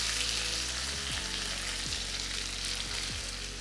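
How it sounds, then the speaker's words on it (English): Curry paste for chicken rendang hits hot oil with cinnamon and star anise in the pan, giving a loud, continuous sizzle and crackle that stays close and even throughout. "Now it's going to bubble up and sizzle quite a bit"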